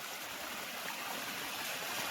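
Monsoon waterfall pouring down a hillside near a village home, a steady broadband rushing roar, fairly faint and distant, with no talk.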